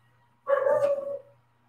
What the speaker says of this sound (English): Got a barking dog?